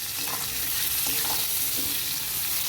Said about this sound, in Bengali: এবারে নেড়ে নেবো ভালো মতো।